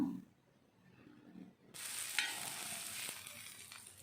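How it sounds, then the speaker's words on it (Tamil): Onions sauté in oil with fennel, curry leaves, chilli, ginger, garlic and salt; after a quiet opening, a soft sizzle starts suddenly and holds steady at a low level. "இப்போ தேவையான உப்பு சேர்த்து நல்லா வதக்கி எடுத்துக்கலாம்"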